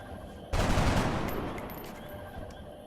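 A single rifle shot cracks out loud and close in the XCOM Long War video game, a sharp broadband burst followed by a roughly two-second decaying rumble and echo.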